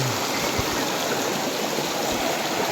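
A river flows steadily at a shaded bathing spot in Bicol where people are wading in, the water making a continuous close rushing and gurgling wash with occasional low bumps and no talk.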